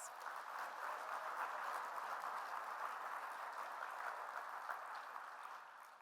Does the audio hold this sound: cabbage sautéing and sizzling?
no